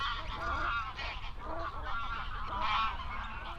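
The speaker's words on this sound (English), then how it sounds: "this grazer, the grey-lag goose" Greylag geese honk in a Dutch marsh, a loud chorus of many overlapping calls that carries on without a break.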